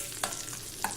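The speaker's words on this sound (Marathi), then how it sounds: "तेलामध्ये हे सर्व मसाले छान तळले जातात" Whole spices sizzling and crackling in hot oil for a traditional Varhadi-style green chilli pickle, a steady close fry broken by two sharp stirring scrapes, with no talking.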